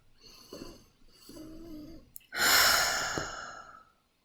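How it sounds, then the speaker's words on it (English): A slow, deep belly breath taken during a relaxing yin yoga session: a soft voiced murmur and a quiet intake, then a long, audible, airy exhale that fades out, close to the microphone. "Deep breath in through the belly."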